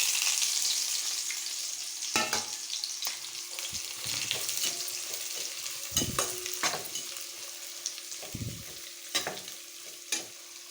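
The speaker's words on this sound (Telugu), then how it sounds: "ఇప్పుడు ఆనియన్స్ వేసుకోవాలి." Onions hit hot oil and ghee in a pan for egg biryani, sizzling steadily up close while a spatula stirs them, scraping and clacking at irregular intervals.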